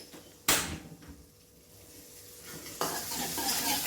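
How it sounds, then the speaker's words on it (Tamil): Curry leaves and dried red chillies tempering in hot oil in a pan for tomato rasam: a sharp clatter, a quieter stretch, then a loud, bright sizzle that swells and holds. "நல்லா கருவேப்பிலை காஞ்ச மிளகாய் நல்லா பொரிஞ்சு வந்துச்சு"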